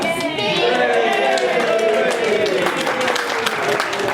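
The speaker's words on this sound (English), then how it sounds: "You just wanted applause, haven't you?" Audience applause at a community sing-along of strike songs, a steady wash of clapping that carries on under voices and what sounds like singing or music throughout.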